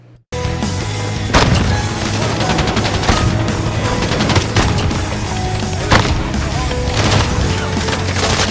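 Dense, continuous gunfire from the video game Modern Warfare 2019, with rapid overlapping shots and heavier booms every second or so under a steady loud roar.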